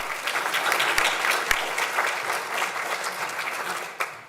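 Applause from an audience at a school committee meeting, honouring a scholarship recipient: steady dense clapping throughout, moderately loud, tapering off near the end.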